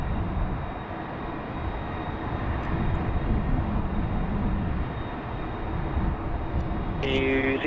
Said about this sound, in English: Here she comes, just vacating via Bravo 8. Always nice to see the A330s coming off the domestic sectors.